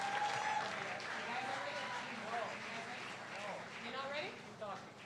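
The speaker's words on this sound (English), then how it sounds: "Can we give them a round of applause?" A jazz concert audience applauds, steady moderate clapping throughout with some crowd murmur and voices mixed in.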